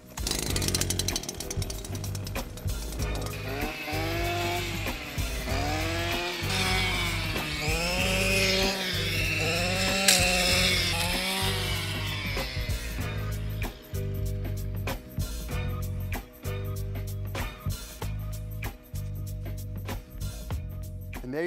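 A brush cutter fitted with a blade works through tall fibrous tropical grass in a Hawaiian landscape, a loud close engine whine rising and falling in repeated revving surges, then settling into a steadier drone.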